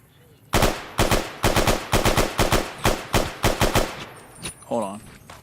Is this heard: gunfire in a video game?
yes